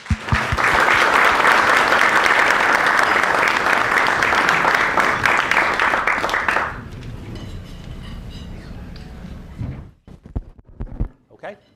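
Sustained audience applause welcoming Dr. Jeremy Stein to a talk at a cocktail reception and dinner, a dense roar of clapping for about seven seconds that fades to scattered claps, soft shuffling and a few thumps.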